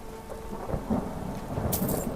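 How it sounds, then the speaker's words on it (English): Steady rainfall with low rumbling thunder in the Skyrim game world, a continuous wash of rain noise with a deeper roll midway and a brighter hiss burst near the end, no voices. "Why is it always raining?"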